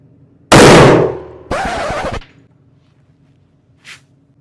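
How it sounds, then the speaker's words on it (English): Two loud, close gunshots from a Ruger RXM pistol fitted with an Icarus Ace grip module ring out about a second apart, followed by a faint short ping and quiet surroundings. "I just kept shooting"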